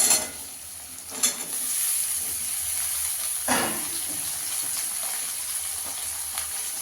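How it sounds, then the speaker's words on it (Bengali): Potatoes sizzle in oil with fried onion and garlic, a steady close hiss punctuated by a few louder scraping stirs of the spatula in the pan. "আলুটা ভালো করে ভেজে নেবো আগে।"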